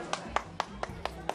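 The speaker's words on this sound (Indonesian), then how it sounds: "terima kasih buat tepuk tangan dong buat Ibu dong" Six separate, evenly spaced hand claps sound close and crisp on an Indonesian studio set, given for a lady over a low background murmur.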